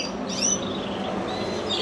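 Roxy the parrot gives a few faint, thin chirps, quiet and brief against a soft background hiss indoors.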